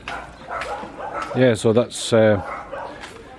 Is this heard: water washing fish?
no